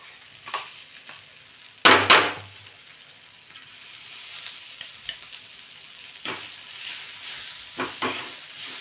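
Ground pigeon peas and masala sizzle quietly in a pan while a spoon stirs them, giving several scraping bursts, one louder near the start and more later, over a soft, continuous frying hiss.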